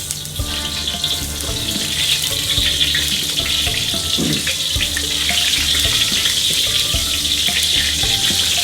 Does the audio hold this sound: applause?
no